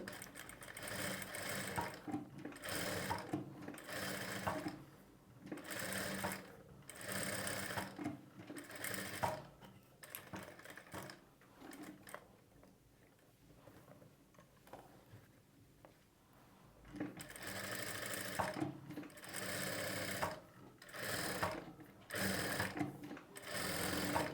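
A sewing machine stitches a blouse lining together with canvas in quick rattling bursts, pausing briefly midway before resuming, close and clear with no talking.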